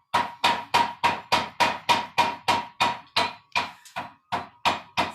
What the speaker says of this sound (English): We call this machine is called belt hammer, because you could see there is a belt in the middle of the hammer.